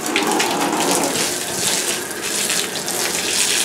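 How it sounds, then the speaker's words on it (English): Hot water runs steadily into a jacuzzi bathtub during refinishing with epoxy, a loud, continuous splashing gush that stays even throughout, with no talk. "I'm hoping that the hot water maybe works a little better to wash this stuff down too."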